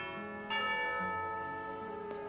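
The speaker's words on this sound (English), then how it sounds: "You hear the sound of a bell." A bell rings for tea time in the video game Narzissenkreuz Adventure, a soft resonant tolling with long sustained overtones, a second strike near the end, fairly quiet and alone.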